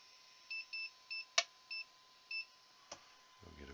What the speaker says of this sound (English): We'll get a beep, beep, beep.